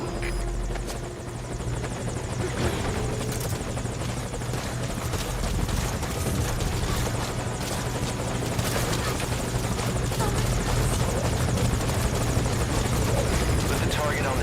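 A helicopter in the video game Metal Gear Solid V: Ground Zeroes holds a loud, steady rotor drone with a low thrumming pulse for the full duration, and voices speak over it.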